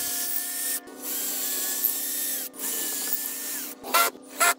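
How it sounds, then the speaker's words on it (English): Power drill driving screws into wooden boards for an elevated raised garden bed, steady whirring runs broken by short pauses, ending with two brief louder bursts close by. "and then I drive in the screws"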